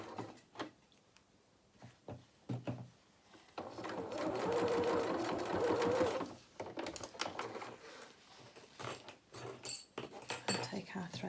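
A sewing machine chain-stitches fabric in a steady whirring run of a couple of seconds, framed by clicks, handling noises and quiet talk before and after.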